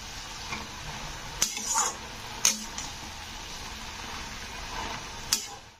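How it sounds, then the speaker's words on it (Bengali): Red amaranth greens being stirred and turned in a cooking pan, with a low sizzle underneath and a few sharp clinks of a utensil against the pan, spaced irregularly and fairly close. "এবারে একটু এটাকে ওপর নিচ করে নাড়াচাড়া করে দিচ্ছি।"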